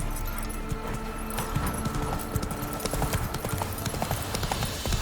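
Hoofbeats of the horse Roach galloping in The Witcher 3, a quick rhythmic clip-clop drumming steadily at moderate volume over a low game background, without speech.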